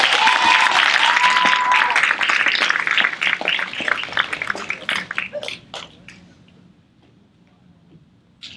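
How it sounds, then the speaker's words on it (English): A crowd at a sports awards presentation claps loudly at first, then thins out into scattered individual claps that fade away to near quiet by the end. "Give them a round of applause again,"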